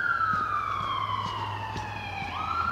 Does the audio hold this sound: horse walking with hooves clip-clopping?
no